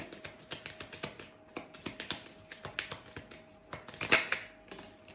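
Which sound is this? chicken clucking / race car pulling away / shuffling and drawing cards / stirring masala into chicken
shuffling and drawing cards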